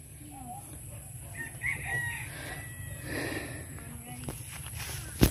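Chickens cluck and a rooster crows at moderate distance around a home yard, over steady background hum, with a voice speaking briefly.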